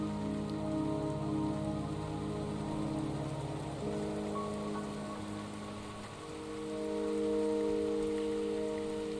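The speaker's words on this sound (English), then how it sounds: "Don't worry, the rain won't last much longer." Steady rain falls in the video game Wuthering Waves on a mountain path, a continuous dense patter of drops on surfaces with a low rumbling bed beneath, heard alone without talk.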